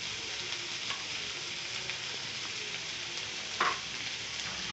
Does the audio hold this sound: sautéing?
yes